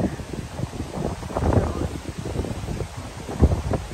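Wind gusts buffet the microphone outdoors at a seaside resort, a loud, rough rumble that swells and fades unevenly, with voices talking faintly underneath.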